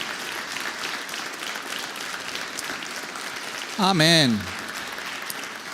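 Sustained applause from a church congregation, steady clapping filling the room, with a voice cutting in briefly near the end.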